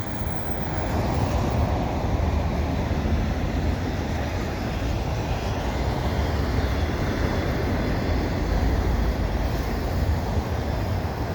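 A CN freight train hauling a long string of auto racks, probably empty, rolls past at Pointe Claire along Donegal Street in winter, a steady, close, unbroken roar and rumble that holds level throughout.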